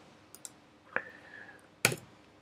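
A few sparse keystrokes on a computer keyboard, quiet and close, with isolated clicks and a louder burst of taps near the end.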